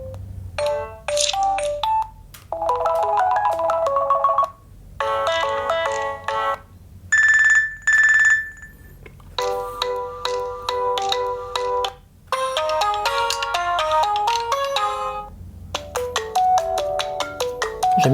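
A Fossil Gen 5 smartwatch speaker cycles through several ringtones in turn, loud and near: chiming melodies, a sustained high whistle-like tone, quick rippling jingles and beeps, each separated by short breaks.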